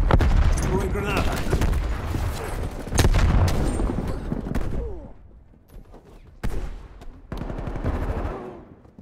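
A grenade thrown and exploding in Black Ops Cold War amid loud, close bursts of gunfire and booms, the blasts fading into quieter stretches while a voice talks.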